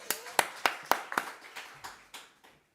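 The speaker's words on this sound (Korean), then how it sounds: "박수 한번 하겠습니다." A small congregation at a church Bible study claps about nine times in a quick, fading burst of sharp hand claps, lasting under three seconds with no voices.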